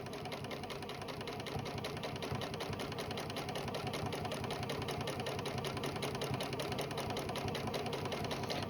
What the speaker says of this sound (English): And I am going to sew that all around the top of the bag, paying close attention to where that seam is.